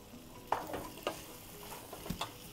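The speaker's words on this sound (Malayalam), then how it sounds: "പച്ചമുളക് ചേർത്ത് കൊടുക്കാം." Green chilies sizzle in a pan of beef pepper roast as a spoon stirs them, a low steady fry broken by three or four soft scraping knocks, close but quiet.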